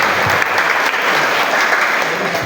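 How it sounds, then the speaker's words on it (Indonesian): Students in a junior high classroom give dense, continuous applause for a classmate, the clapping close and loud throughout with no pauses. "Tepuk tangan buat Rajudin, Masya Allah."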